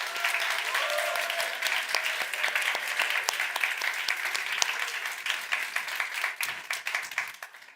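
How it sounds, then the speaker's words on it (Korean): A church congregation applauds the newly baptized with sustained, lively clapping from many hands that fills the room, then thins and tapers off near the end. "우리 세례 받은 모든 분들에게 박수 한번 보내드릴까요?"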